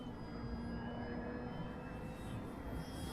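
Steady, faint motor drone of a Durafly Tundra RC model plane in flight, a continuous whine-laden hum heard from a distance with wind-like broadband noise.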